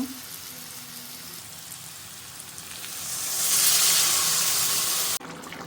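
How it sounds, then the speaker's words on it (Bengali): Potatoes sautéing in a pan for a curry give a soft, steady sizzle that swells louder midway, then drops sharply near the end, with no voices over it. "এখন কষিয়ে নিব আলুগুলো ভালো করে কষিয়ে নিছি"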